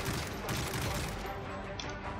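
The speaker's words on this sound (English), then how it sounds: "Means someone's shooting at me." Continuous dense gunfire from enemies in Call of Duty: Modern Warfare 3, a steady rattle of shots that stays loud and busy throughout the short burst.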